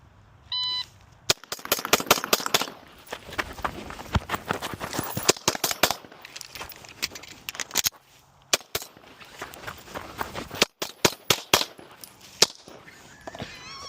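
A shot timer beeps, then a pistol fires Bill drill strings on an outdoor range: fast sharp bursts of shots, loud and near, with quieter gaps between runs and a few more distant shots.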